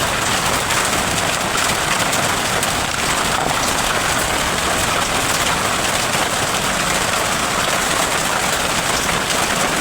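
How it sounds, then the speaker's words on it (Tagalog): Rain falls steadily outdoors during repair work on a Hanabishi ground fan, a loud, constant patter and hiss that runs unbroken with no speech over it. "Umuulan dito pa rin sa amin"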